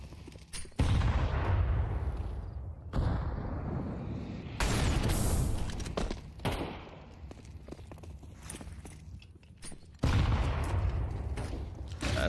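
Rifle gunfire in a Counter-Strike 2 pro match between Fnatic and G2 Ares: several loud, sharp bursts of shots separated by brief quieter gaps, with footsteps and game noise in between.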